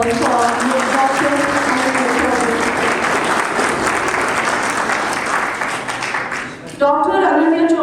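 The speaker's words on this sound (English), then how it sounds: "I would like all of you to have a big round of applause for Dr." A lecture audience gives a speaker, Dr. Anuny Chaubey, provost of Anant National University, a big round of applause: dense, loud clapping from a full hall, with a voice talking over it at the start and returning as it fades.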